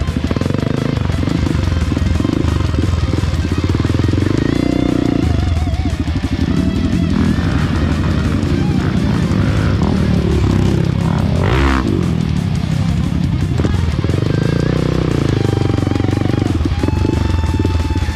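Several motorcycles roar past one after another on a dirt trail ride, engines loud and close, revving and fading as each bike goes by, with brief voices underneath.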